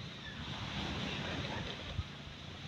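Sea waves wash onto a beach while wind buffets the microphone, a steady, dense rush of surf and wind noise heard up close with no clear voices.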